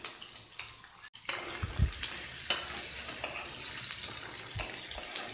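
Ivy gourd, green chilies and garlic cloves fry in four tablespoons of oil in a pan over a medium flame, giving a steady, moderately loud sizzle with a few utensil knocks and scraping stirs.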